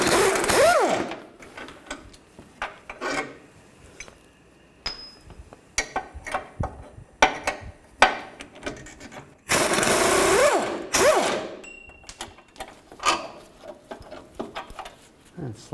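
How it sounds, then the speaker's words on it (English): A wrench and a 21 mm socket remove bolts on a 2000-06 Chevy Tahoe during oil pump replacement, with repeated bursts of rapid ratcheting clicks broken by quieter pauses, close and fairly loud. "use a 21 millimeter wrench on the back and a 21 millimeter socket on the front"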